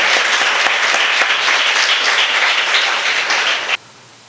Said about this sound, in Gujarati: તાળીઓ સાથે આવકારીએ છીએ આપણે સોનાણી સાહેબને